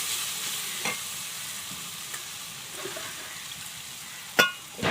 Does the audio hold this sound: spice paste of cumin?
yes